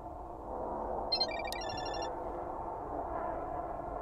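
A brief electronic ringtone chimes once in the horror game Chilla's Art Parasocial, a quick bright trill of beeps, faint over a low steady background hum.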